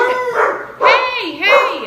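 Dogs bark and yip loudly close by in a few bursts, reacting to a neighbor mowing the lawn, while a person speaks briefly over them.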